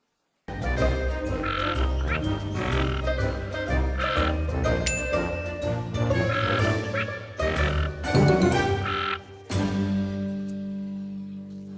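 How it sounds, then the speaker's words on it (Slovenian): A toad croaks loudly and repeatedly for about eleven seconds, a dense run of rough, pulsing calls with a few short gaps and no voices over it. "Poglej, to je krastača."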